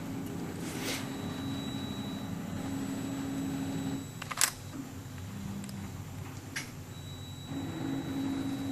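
A wheel analysis machine reading a tire hums steadily with faint whirring and a thin high electronic whine, broken by a couple of brief mechanical clicks, with no talking.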